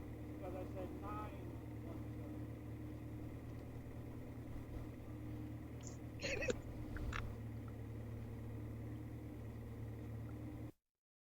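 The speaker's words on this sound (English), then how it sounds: "you can hear the cleaning truck, the brush truck coming up" A track-cleaning brush truck at a ChampCar endurance race circuit, heard as a low steady engine drone with continuous hum, moderately distant and faint, a few brief sharp clanks midway before the sound cuts off abruptly.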